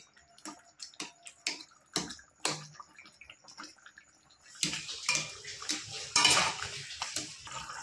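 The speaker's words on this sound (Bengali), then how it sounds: "এবার খুন্তি দিয়ে কিছুটা আলু একটু আমি এভাবে ঘেটে দেবো।" A spatula mashes and scrapes potatoes for aloo posto in a pan: first a run of sharp, separate clinks and taps, then denser, louder scraping and clattering close by, with no talking.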